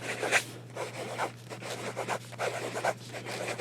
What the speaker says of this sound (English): now we're going to do, just for fun, some fast writing again, because this nib is so lovely